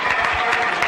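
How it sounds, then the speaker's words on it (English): An audience claps steadily in a brief, dense burst of applause for Groucho Marx, a close crowd sound with no one speaking over it. "now, why are you applauding a Pullman car?"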